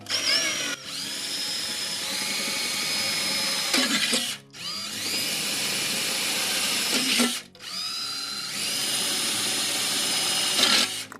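A reamer works a metal part for a homemade variac, a loud grating whine in three long passes separated by short pauses.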